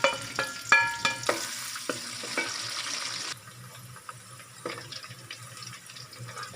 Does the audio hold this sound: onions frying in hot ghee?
yes